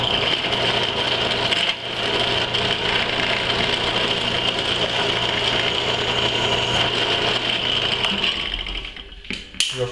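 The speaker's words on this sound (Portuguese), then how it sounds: "a broca que eu estou usando aqui é uma broca para cortar metal e ela é de 7 milímetros" An electric drill fitted with a 7 mm metal-cutting bit runs loud and close, a steady high whine with grinding as it bores through, slowing and stopping near the end.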